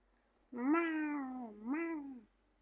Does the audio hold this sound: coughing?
no